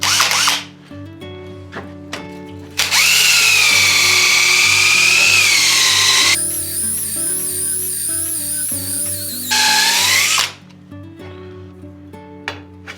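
Drill-driven flex hone spinning inside a part of a 90s VooDoo Bokor mountain bike, a loud sustained whine that swells and shifts pitch across several runs, with brief pauses between bursts and no talking.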